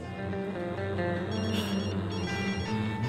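A telephone ringing in a Turkish drama scene, with a continuous electronic tonal ring sounding throughout, steady and moderately loud and close, with no talk over it.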